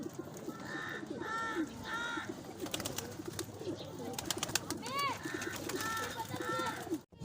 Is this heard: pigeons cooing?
yes